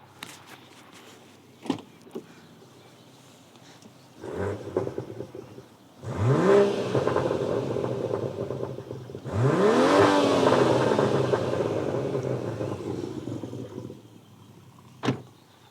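BMW M140i exhaust with a single resonator delete, a couple of sharp blips followed by two long rising revs that hold loud and throaty before dropping off, with a click at the end.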